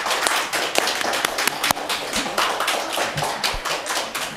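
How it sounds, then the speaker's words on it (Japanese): A small group at a press conference claps to close the session, with distinct, fairly close individual hand claps in an uneven, moderately paced rhythm and no talking over them. "皆様どうぞ拍手をお送りください。"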